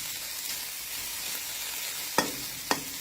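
Fermented Mekong fish roe (som khai pla) is stir-roasted in a pan, making a steady soft sizzle with two sharp utensil knocks near the end.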